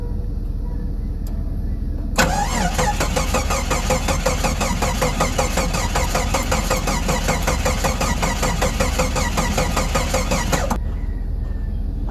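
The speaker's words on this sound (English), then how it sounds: "Alright, we're gonna do a cold start" A 1989 Jeep Comanche engine cranks briefly on a cold start, then settles into a loud, steady idle with a rough, ticking rhythm for several seconds before cutting off abruptly.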